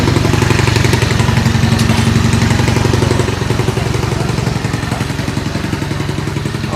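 A Honda Beat MP7 SBL Racing road-race motorcycle with a stock engine runs loud and close, a rapid buzzing putter that eases slightly in intensity partway through.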